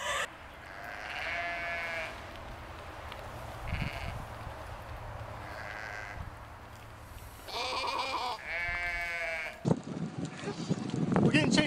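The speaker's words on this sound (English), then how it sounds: "A goat jumped in my car." A goat that has jumped into a car bleats in several loud, wavering cries, two of them clear and close, with quieter bursts between them and a clattering, noisy ending.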